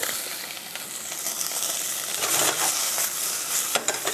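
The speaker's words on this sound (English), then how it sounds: "I'm going to saute that for a minute" Vegetables sauté in a hot pan while a cassoulet with sausage is cooked, giving a steady close sizzle and frying hiss with light stirring scrapes, and no talking.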